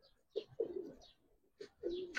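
Pigeons in a loft cooing in short bursts, a few distinct throaty coos separated by pauses, close and quiet with faint chirps between them.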